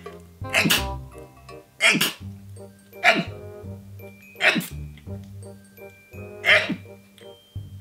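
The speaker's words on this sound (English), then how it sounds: "It's definitely set off sneezes then." Five sharp, explosive sneezes in a row, close by, set off by peeling latex around the nose, spaced roughly a second apart against a faint steady hum.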